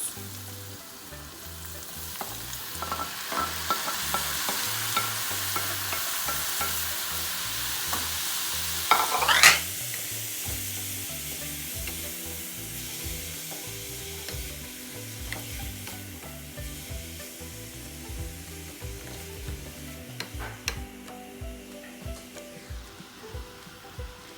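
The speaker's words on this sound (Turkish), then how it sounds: "Evet arkadaşlar yaklaşık bir 4-5 dakikadır kızarıyorlar." Peppers and meat sizzle steadily in a pan, a loud continuous frying hiss with occasional stirring clatter, and a sharp burst of sizzle as tomatoes go in midway, then the steady frying resumes.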